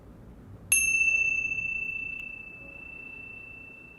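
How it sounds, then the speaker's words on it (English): A meditation bell is struck once, giving a clear bright ring that sustains steadily and fades slowly over several seconds in a quiet room. "I am going to ring my meditation bells"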